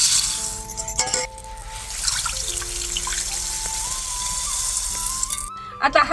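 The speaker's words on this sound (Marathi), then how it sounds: "तांदूळ आणि डाळ दोन्ही पाण्यात टाकून भिजत घालते" Rice and dal for dal khichdi tipped into a bowl of water to soak, with close trickling, dripping and splashing over steady background music.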